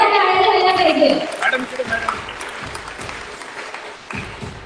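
Applause breaks out at a Women's Day ceremony honouring women traffic police in Thane, starting under a voice on the microphone and continuing as scattered, moderately loud clapping from the audience.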